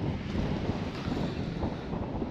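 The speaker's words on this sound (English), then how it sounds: "Breezy, isn't it?" Strong wind gusting across an outdoor English football ground, a steady rumbling roar buffeting the microphone with no voices present.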